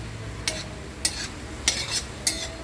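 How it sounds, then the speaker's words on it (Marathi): Two onions roasting in a pan for a cluster bean dish, with a low background sizzle broken by four evenly spaced sharp scraping clinks of a spatula against the pan, close by. "हे कांदा आपण आता भाजून घेणार आहोत एवढा आपला कांदा भाजायला लागला आहे"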